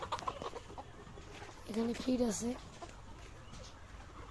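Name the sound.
chickens clucking on a poultry farm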